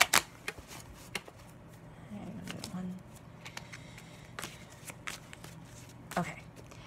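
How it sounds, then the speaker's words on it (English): Soft riffling and tapping of tarot cards being shuffled, in short bursts with quiet gaps, close by and fairly faint. "we're just doing one last shuffle"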